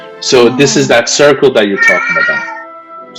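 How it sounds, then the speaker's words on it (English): A pet cat meowing indoors, several drawn-out calls heard close by, overlapping with a person talking. "Sorry, that's my cat."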